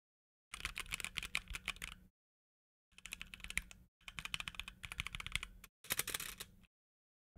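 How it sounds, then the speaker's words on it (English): Computer keyboard typed in several quick bursts, close and crisp clicking and clacking keys separated by short silent pauses, with no speech. "I like the sound of my keyboard."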